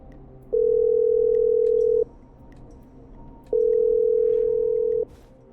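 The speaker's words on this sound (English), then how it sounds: "I'm dialing. One moment." A telephone call placed in a video game rings out as two long, loud, steady ringback tones with a short quiet gap between them, set over a faint background hum.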